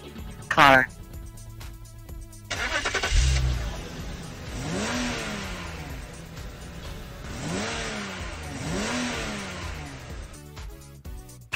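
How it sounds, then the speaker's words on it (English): A car engine revving and accelerating in a video game, swelling loud with rising and falling pitch sweeps, starting abruptly after a brief beep and fading near the end. "Car."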